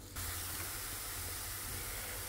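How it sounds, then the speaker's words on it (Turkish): Onions and peppers fry over low heat in a pan, giving a constant soft sizzling hiss that starts abruptly and holds steady, fairly quiet and with no voices. "Kavurmaya devam ediyorum."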